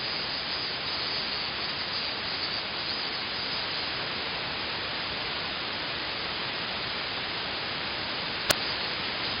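Steady radio static hisses continuously at an even, fairly loud level, broken once near the end by a brief sharp click.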